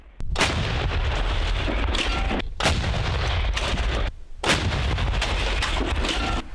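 Repeated heavy blasts from a Rapira anti-tank gun, three or four loud booming shots spaced a second or two apart, each followed by a rumbling echo, with no talking.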